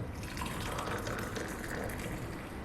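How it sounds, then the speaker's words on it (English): Hot water from an electric kettle pours steadily into a cup in a continuous gushing stream, close and fairly quiet, with no talking. "So let me pour myself another cup of hot water."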